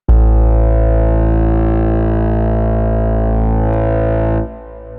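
A sustained, dense synth pad from the Artistry Audio Monolith preset swells loud and steady as a macro knob sweeps EQ, tube compression and reverb, then cuts to a softer reverb tail near the end.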